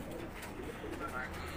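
Pigeons coo softly in a continuous murmur, with a voice talking over them.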